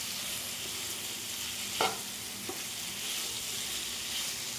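Beans, green chillies and potato fry in a pan for veg pulav, sizzling steadily, with a couple of brief stirring scrapes partway through.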